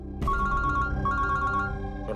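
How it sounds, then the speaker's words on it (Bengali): A mobile phone ringtone plays loud and close in a desert-set crime drama: a bright repeating electronic melody in two bursts, alone without talk. "আমি একটু ফোনটা ধরি"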